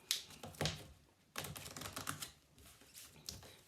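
Oracle cards riffle and flutter in quick, soft bursts close by during a card reading, with short pauses between the shuffles and no talking.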